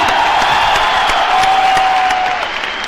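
A large audience at an awards function in Delhi bursts into loud, sustained applause and cheering, a dense wash of clapping that holds steady for about three seconds before easing slightly near the end.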